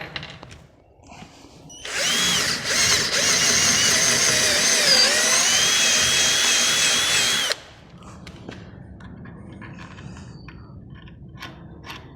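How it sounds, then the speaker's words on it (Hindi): A hand-held power drill bores a hole while a bench vice and screwdriver set are in use, giving one loud, steady whine of nearly six seconds with a slightly varying pitch, framed by quieter handling clatter before and after. "लेकिन उससे पहले इसके लिए हम सुराख कर लेते हैं।"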